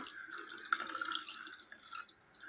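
Water pours steadily from close by into a pot of sugar to make syrup for gulab jamun, a continuous splashing stream with a brief dip near the end.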